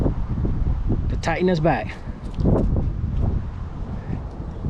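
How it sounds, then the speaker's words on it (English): Wind buffets the microphone in low rumbling gusts under a man's speech, with brief rustling noise throughout. "It's kind of windy out here, so I do apologize for the sound"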